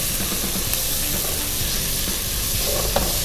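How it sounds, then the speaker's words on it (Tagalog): Kimchi soup base sautéing with onion and garlic in a pan, a steady close sizzle and hiss with light stirring scrapes throughout. "we're gonna saute this first, no? Then we're gonna add a little bit of onion and garlic"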